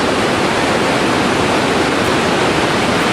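White water rapids in Sir John Gorge on the Fitzroy River in the Kimberley, a constant loud broadband roar of rushing water with no variation.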